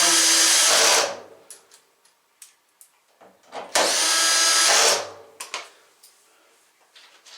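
A power drill with its torque set to 3 drives screws into a Samsung dryer during a drum replacement, two loud whirring bursts of about a second each, separated by quiet ticks and clicks of handling.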